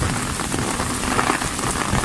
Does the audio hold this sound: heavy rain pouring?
yes